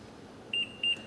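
A kitchen timer gives two short, high, thin beeps close by during sauce cooking, separated by a brief gap against a quiet room.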